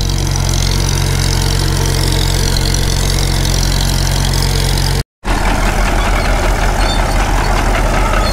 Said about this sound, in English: Bob's trying to chase Connor down with the D4. I think Bob's pretty much running at idle right now